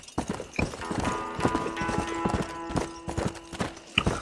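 Horse hooves clip-clop in a steady, quick rhythm as the horse travels in the video game Red Dead Redemption, loud and close, with no talk over them.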